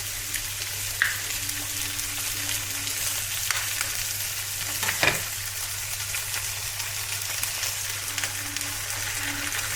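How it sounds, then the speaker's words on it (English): Eggs frying in a pan on top of a spicy Spanish egg dish give a steady, close hiss of sizzling, with a few faint utensil taps and no talking. "I'm going to add the eggs now to that."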